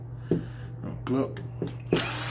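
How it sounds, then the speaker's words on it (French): A power drill drives long screws into the front differential of a Traxxas E-Maxx RC truck, its motor holding a steady close hum broken by several short, sharper bursts and a louder rising whir at the end. "souvent je me sers de la perceuse"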